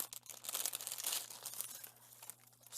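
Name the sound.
crinkling plastic packaging of Dollar Tree items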